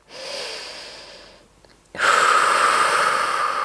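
Deep breathing during a Pilates exercise: a steady, close breath in, a brief pause, then a louder, sustained rushing exhale, with no talking.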